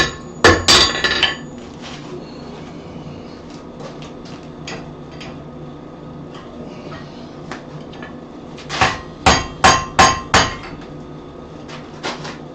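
Hammer blows driving a part into a freshly welded metal piece: an opening burst of rapid ringing strikes, a quieter stretch, then a spaced run of five or six sharp metallic hits, loud and close.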